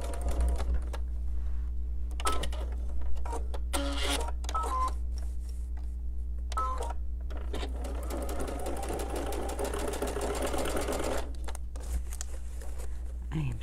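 A home sewing machine stitches through a quilt in a quilting studio, a steady mechanical whir and rapid needle clatter running throughout, with brief pauses and bursts of faster stitching.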